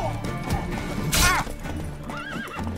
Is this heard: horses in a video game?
yes